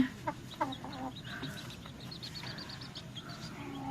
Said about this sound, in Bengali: নিচতলাতেও বেশ কিছু মুরগি আছে।